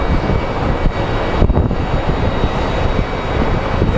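SkyWest regional jet arriving at Phoenix Sky Harbor airport, its engine roar a steady, broadband rumble that holds loud and constant with no voices.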